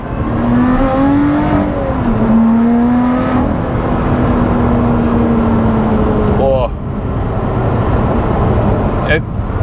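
A manual Lotus Exige sports car drones along under steady engine load, then its engine blips sharply on a downshift before settling, heard close from inside the car.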